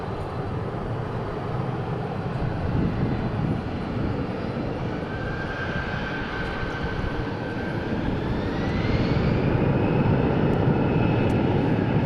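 A Boeing 747-400 bound for Brussels at DFW International Airport gives a loud, steady jet roar, with a whining engine tone that rises in pitch and grows stronger toward the end.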